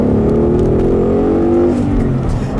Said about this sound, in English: I'll do a little acceleration here briefly, just a little second gear pull for the fun of it